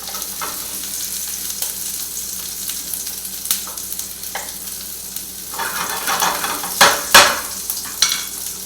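Onion sautéing in a pan for an omelette gives a steady close sizzle, with occasional scrapes of a utensil stirring and a few louder stirring bursts toward the end.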